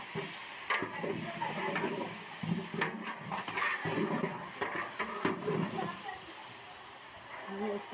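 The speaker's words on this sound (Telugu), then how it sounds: "మంచిగా అల్లం వెల్లుల్లి పేస్ట్ కూడా వేసుకొని బాగా ఫ్రై చేసుకోవాలి అల్లం వెల్లుల్లి పచ్చివాసన పోయే వరకు ఫ్రై చేయాలండి" Ginger garlic paste frying and being stirred in a large pot for a 20 kg batch of Hyderabadi mutton tahari, soft sizzling and scraping under a person talking.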